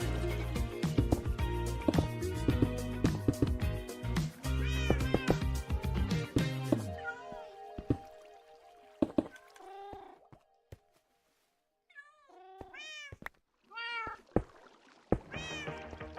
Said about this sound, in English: The cat sounds are honestly crazy.